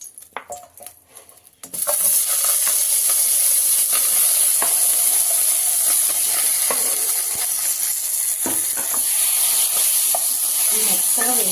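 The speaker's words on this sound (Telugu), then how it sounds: "ఇదే బాండీలోకి 1 స్పూన్ నూనె వేసుకొని ఇప్పుడు టమాటాలు వేయించుకుందాము." Tomatoes fry in a spoonful of oil in a kadai, giving a loud, continuous sizzle with occasional clicks from stirring after a brief, quieter start.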